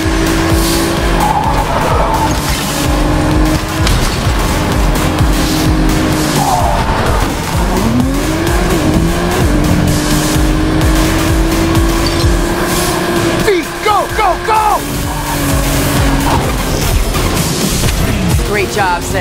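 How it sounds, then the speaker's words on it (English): Car drifting in a Fast and Furious street race scene, tires squealing in long sliding wails over a loud, continuous engine roar, with voices speaking and a few dull booms amid the noise. "Perfect time to pop that drift, Seb."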